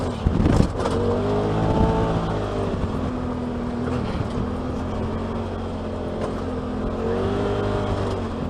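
A Polaris RZR XP Turbo UTV on 32-inch Tusk Terrabite tires drives along with a loud, continuous engine drone that rises and falls as the throttle changes, close throughout.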